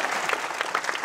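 A brief burst of continuous clapping from an audience at a juggling show during a medieval festival in Guérande, fairly close and steady throughout.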